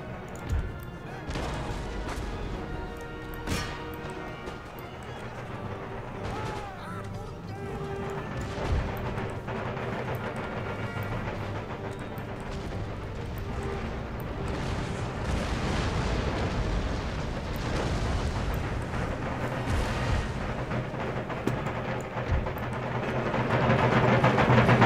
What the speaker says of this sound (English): Let's get my howitzers to change targets. Start firing on some advancing troops.